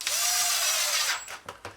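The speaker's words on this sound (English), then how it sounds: "I'm going to go ahead and put a couple screws in here to help hold this thing together" A power screwdriver whirs briefly up close as screws are driven into a plastic leaf blower housing, followed by a couple of short clicks and knocks.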